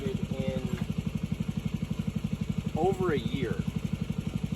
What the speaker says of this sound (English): This is a diesel, a 10 horsepower Chinese diesel.